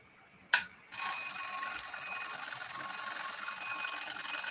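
A short mechanical click, then a Japanese Rhythm mechanical alarm clock bell rings loudly and continuously, a bright metallic trill that keeps going without pause.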